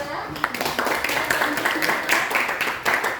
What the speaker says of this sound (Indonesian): beri tepuk tangan dong buat kelompok 2